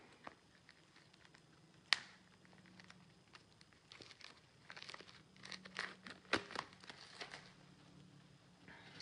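Plastic package of scrapbooking card layers being pulled open by hand, with faint crinkling, scattered crackles and tearing sounds, one sharp snap early on and a busier burst of rustling later.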